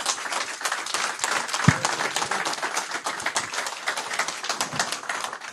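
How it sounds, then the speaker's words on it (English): A conference audience at an economic outlook event breaks into sustained applause, a dense, even wash of many hands clapping at moderate loudness with one brief thump partway through. "that applause is not enough"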